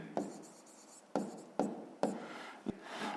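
A pen writes on paper in a math exercise notebook, making several sharp taps and short scratchy strokes close by at irregular intervals, with no voices.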